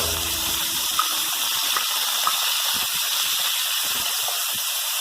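Chopped tomato tipped into a hot pan while cooking khuska rice gives a steady, loud sizzling hiss that runs evenly throughout, with a few faint clicks and no talk.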